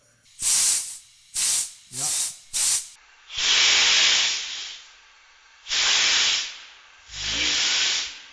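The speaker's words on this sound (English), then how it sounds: "Did you see how there was some brake fluid that just shot out of the middle of this hose?" Sharp hissing bursts of brake fluid spraying from a cracked hose on a Porsche 944 under a pressure test: four short close spurts, then three longer sustained hisses with pauses between.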